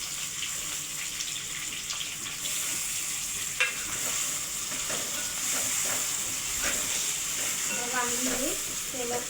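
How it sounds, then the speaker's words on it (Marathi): Eggplant stir-fried in oil with tomato, a continuous soft sizzle with occasional stirring clatter, and a voice speaking briefly near the end. "वांगी तेलात छान अशी परतून घ्यायची।"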